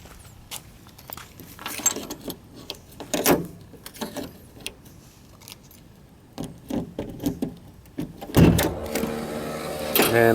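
A 1993 Cadillac Coupe DeVille's trunk pull-down motor whirs briefly near the end. Scattered clicks and handling knocks come before it, and the motor whine is close and rises above the quiet surroundings.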